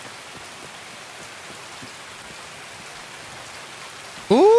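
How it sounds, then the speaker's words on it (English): Steady rain in the video game Escape from Tarkov hisses evenly throughout, a soft constant patter, until a brief sharp tone cuts in at the very end. "It's raining in hardcore."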